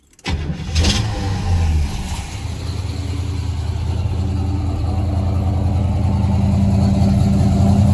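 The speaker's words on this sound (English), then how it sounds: "I'm gonna go ahead and start up the car" A car with a vintage air conditioning system turns over and fires up, then settles into a steady, loud idle that runs on for several seconds, close by.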